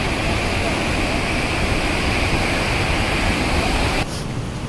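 Roaring Randha waterfall at Bhandardara pours a constant heavy rush of water, loud and close, with the roar dipping slightly near the end.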